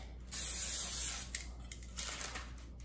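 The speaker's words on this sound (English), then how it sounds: "I'm gonna spray the bottom of the pan" Cooking spray is sprayed onto the bottom of a cake pan: a loud, hissing spray burst for about a second, followed by shorter, quieter spritzes and clicks of the nozzle.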